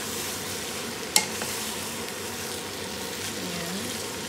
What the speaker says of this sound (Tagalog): Haluin po natin mga kapatid.